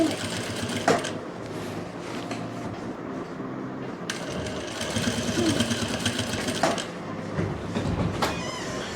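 Sewing machine stitching the waistband onto a heavy, many-pleated Patiala salwar, a steady fast mechanical whirr running nearly continuously at close range, with a few brief pauses and clicks and no speech.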